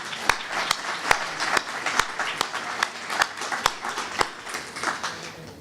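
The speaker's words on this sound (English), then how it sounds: "Would you please give them a round of applause?" An audience claps in applause after an announcement at an MIT event, a steady patter of many hands with sharp individual claps standing out, close and continuous throughout.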